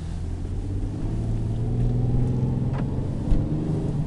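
The V6 engine of a 2008 Dodge Charger runs with a steady, low, droning rumble, close and continuous, with a brief bump near the end.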